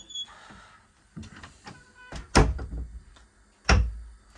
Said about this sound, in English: And there's also a door closer on this door.